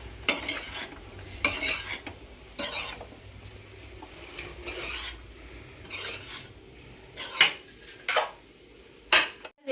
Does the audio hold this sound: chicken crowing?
no